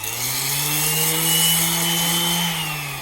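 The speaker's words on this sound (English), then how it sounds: "you'll take some sanders and you'll round and sand this outside edge" Power sander rounding and smoothing the outside edge of a wooden mug in a school wood shop, a loud steady motor whine with a gritty rasp throughout, close up and without talk.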